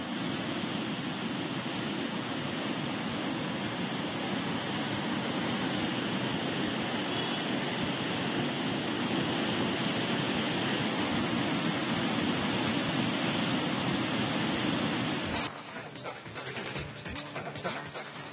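The Phalguni river, flooded after heavy rain, rushes with a dense, loud, steady roar of churning water that holds unbroken before dropping to a rougher, quieter rumble near the end.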